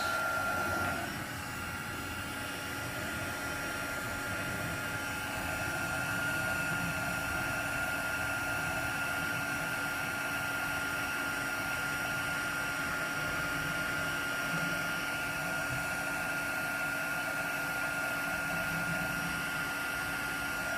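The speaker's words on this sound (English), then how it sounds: "Apologies for the noise of heat tool." A heat tool blows with a continuous loud whooshing whine, a steady airy roar with a faint high hum that barely changes throughout.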